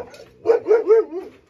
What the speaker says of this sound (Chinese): 看一下，这是他家的大狗，